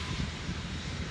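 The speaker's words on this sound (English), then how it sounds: "we saw the very beginning of the rotors being spinning up" A Sikorsky S-92 helicopter spinning up its rotors gives a broad, loud turbine roar with a low, uneven throbbing underneath, continuous and close.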